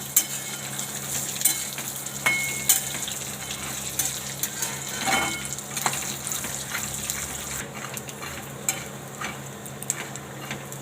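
Peanuts roast in hot oil in a pan for sabudana vada, giving a steady close sizzle and crackle with occasional scraping stirs, and no talking.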